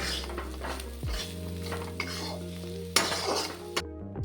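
A metal spoon stirs and scrapes through a pan as turmeric and salt are fried, giving soft sizzling with several sharp clinks of utensil against the pan.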